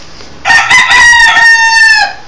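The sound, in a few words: rooster crowing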